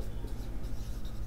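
Writing on a board during a math lesson makes a brief, steady scratching rub that stays close and continuous over a low background rumble.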